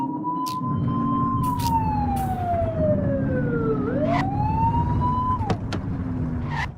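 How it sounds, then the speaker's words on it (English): Police car siren in the video game The Precinct, a loud wailing tone that sweeps down slowly then rises again, with road and engine noise beneath and a few sharp clicks. "Get on their tail and flip the siren."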